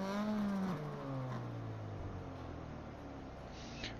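A rotary-engined car in Forza Motorsport 7 revs hard and then settles into a steady, buzzing idle. Its rising and falling engine tones come through loud and close, with no talk over them.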